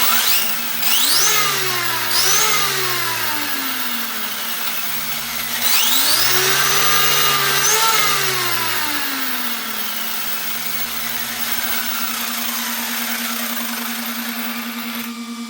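Dual motor RC basher with its motors run at throttle, whining up and down in repeated rising and falling sweeps, then settling into a steady high hum, loud and close.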